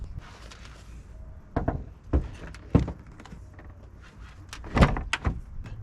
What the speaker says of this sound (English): let's put the doors on, maybe the hood, maybe a hatch.